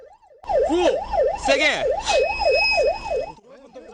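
Korean police car siren wailing loudly and steadily in a rising and falling yelp during a pursuit of a drunk driver, with a loudspeaker voice and shouting over it before it cuts off abruptly.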